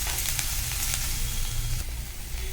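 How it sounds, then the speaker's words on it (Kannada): Ginger, garlic and green chillies fry in a pan for masala puri, giving a loud, close, continuous sizzle with a light stirring texture and no voices. "ಆಮೇಲೆ ಶುಂಠಿ, ಬೆಳ್ಳುಳ್ಳಿ ಸ್ವಲ್ಪ ಚೆನ್ನಾಗಿ ಫ್ರೈ ಆಗಲಿ."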